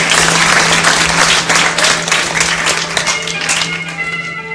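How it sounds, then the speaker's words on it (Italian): Audience applause for a guitarist at an evening arts performance in Monte Urano, loud close clapping from many hands that gradually thins over several seconds, with a low steady hum beneath. "L'applauso per Rocco, grande chitarrista"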